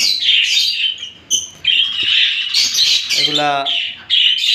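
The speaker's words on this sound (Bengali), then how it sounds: "আমার কাছে লোটিনো কোকাটেল রয়েছে" Lutino cockatiels kept as a breeding flock give loud, shrill, repeated contact calls and squawks close by, overlapping almost continuously while someone speaks over them.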